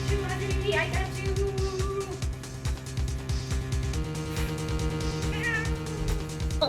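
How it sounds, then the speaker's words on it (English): A pet cat named Audrey meowing in short rising cries over loud rock music playing nearby, with a person's voice also present. "Oh, did y'all hear that meow?"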